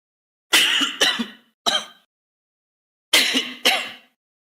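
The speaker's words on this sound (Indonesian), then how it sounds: "Batuk-batuk nih." Five harsh coughs come in two bursts, a quick pair then a single, a pause, then another pair, close and loud with no talking.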